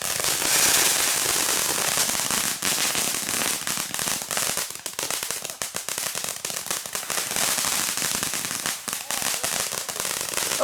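A spinning firework pinwheel fitted with a rocket gives off a dense, continuous crackling and fizzing with rapid popping bursts for about ten seconds, fairly loud and steady.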